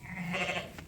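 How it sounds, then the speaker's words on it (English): Sheep bleat in a lambing pen among a ewe and her flock, a single drawn-out nasal call held close and fairly loud for about a second. "we're trying to lure all the other sheep out of the way"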